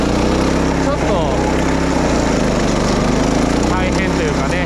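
A wing mower grass-cutting machine runs loud and close, its engine drone steady and unbroken with a rough mechanical hum throughout.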